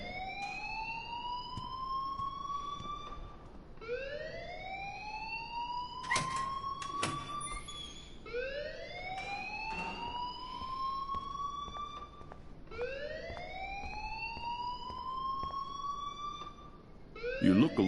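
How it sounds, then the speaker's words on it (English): Electronic alarm in a PS4 video game, a wailing siren whose rising sweeps repeat about every four seconds over steady background noise, with a few sharp clicks partway through. "please turn off that alarm since that's your job."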